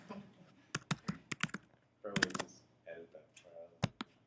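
A password is typed on a computer keyboard: a run of crisp, separate keystrokes up close, then a short murmur of a voice, then a few final key presses.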